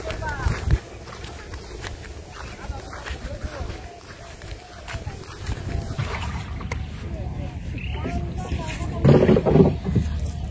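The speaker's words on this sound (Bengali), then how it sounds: "বাতাসটা ছাড়ানো তো আরো ভালো লাগতেছে" Wind gusts rumble across the microphone during a ride through Bangladeshi village country, a fluctuating low roar that swells louder toward the end, with a person talking over it.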